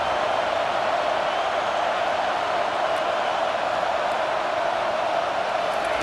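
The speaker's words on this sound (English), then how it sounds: "Decibels rising as the crowd gets behind this defense on 3rd down" A stadium crowd roars in a steady, dense wash of cheering as fans back the defense on third down in EA Sports College Football 25, Oklahoma vs South Carolina, with no clear talk over it.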